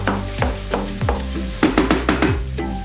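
Onion sizzles and fries in a pan for a rice dish with mushrooms, a steady crackle broken by repeated stirring scrapes and clacks of a utensil, close and fairly loud with no talking.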